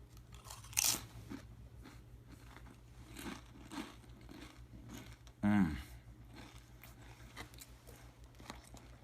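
Doritos Poppin' Jalapeno chips crunch loudly in two sharp bites, with quieter chewing between and after, close to the mic and without talk.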